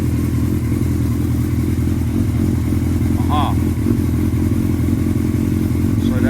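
A Suzuki Hayabusa motorcycle with a charging problem idles steadily and loudly, a continuous low engine drone close to the microphone with a brief faint chirp partway through.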